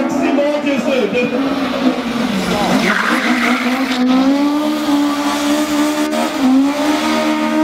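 A rally car slides and skids at the Oslo Motor Show, its engine revving loudly with tires squealing in a sustained, wavering howl up close for several seconds, with someone speaking over it.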